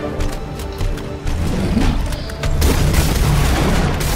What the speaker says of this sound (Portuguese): Então é a hora de fuzilar ele, ó.